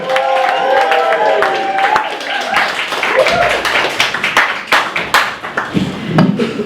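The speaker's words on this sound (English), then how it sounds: "Keep the applause going." Comedy club audience applauding as a comedian is welcomed onto the stage, a dense burst of clapping and some cheering that thins out toward the end, with a voice speaking over it.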